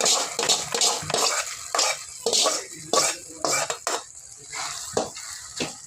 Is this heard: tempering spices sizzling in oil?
yes